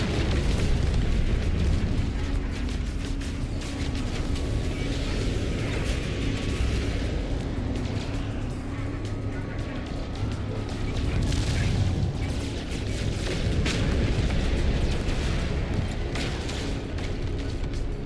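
Space combat in the video game No Man's Sky brings a dense barrage of explosions, booms and weapon blasts, loud and continuous for the whole stretch, with no speech.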